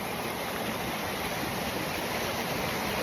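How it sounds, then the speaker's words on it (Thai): Sang Khayuan waterfall in Phu Pha Man district, Khon Kaen, rushes with a continuous, dense roar of falling water. It is loud and even throughout, with no voices. "ตอนนี้นะครับเรามาถึงน้ำตกแล้วนะครับ"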